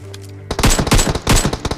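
Loud, close rapid gunfire in a video game bursts out after a brief quiet moment, with rattling automatic volleys in quick succession.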